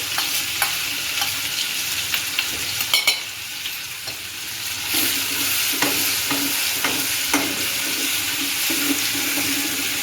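Cumin seeds and a ginger, garlic and green chilli paste frying in hot oil give a loud, close crackling sizzle with occasional spatters and stirring scrapes for a dhaba-style Ratlami sev curry.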